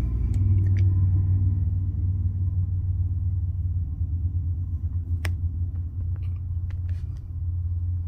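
Low, steady rumble inside a truck, a deep continuous drone of the vehicle with faint ticks and clicks scattered over it, close and unbroken for several seconds.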